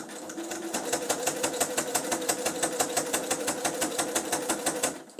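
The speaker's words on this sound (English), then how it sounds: "So begin to zigzag stitch, keeping your strips very, very, very straight as they go through." A sewing machine running a zigzag stitch over strips of quilt batting, a close, fast, even mechanical chatter of needle strokes that starts, runs steadily for about five seconds, then stops.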